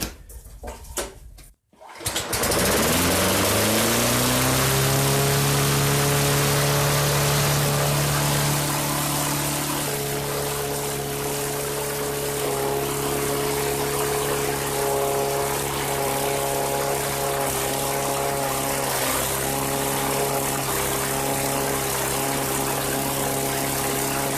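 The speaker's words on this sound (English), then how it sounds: "Oh, that idle's way too high, way too high." A 2002 Sears Craftsman riding mower engine with a damaged breather line starts up and races at a too-high idle, a loud steady droning hum held close for the whole stretch after a brief silent gap.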